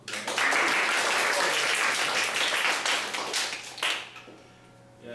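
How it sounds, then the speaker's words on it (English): Audience applause at a university Toastmasters talent contest, a dense round of clapping swelling quickly and holding for several seconds before tapering into scattered claps and quiet. "Everyone give a big applause."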